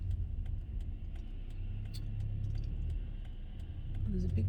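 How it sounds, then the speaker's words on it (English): A big lorry passing on a road outside a moving car, a heavy low rumble that swells and grows louder toward the end over steady engine and road noise. "there's a big bloody lorry here."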